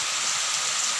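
Heavy rain pours steadily outdoors as a dense, continuous hiss, loud and unbroken for the full second with no voices.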